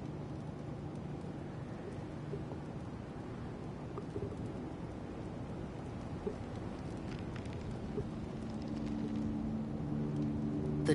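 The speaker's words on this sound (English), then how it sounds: "I think that's Rain." Steady rain falls with a low rumble of thunder beneath it, a constant wash of drops that grows slightly louder toward the end.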